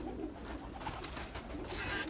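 Pigeons coo softly and faintly in a close, quiet space, a low murmuring call repeating over a steady background hiss, with no voices.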